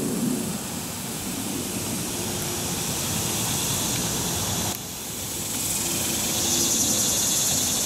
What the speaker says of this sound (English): Got the cicadas out.